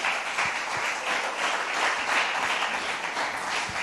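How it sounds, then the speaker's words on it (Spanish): A church congregation applauding, a steady wash of many hands clapping together at moderate volume, continuous throughout with no breaks. "Denle un aplauso a Dios."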